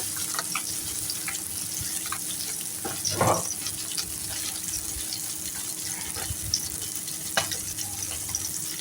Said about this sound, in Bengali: এখন পেঁয়াজ কুচি দিয়ে দেব পেঁয়াজটাকে হালকা লালচে কালার করে ভেজে নেব